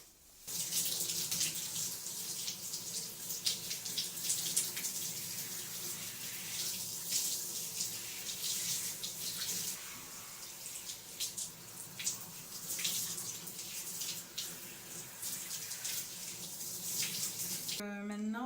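Shower water running steadily and loud for the whole stretch, a dense broadband spray during a hair care routine, with a brief tonal sound right at the end.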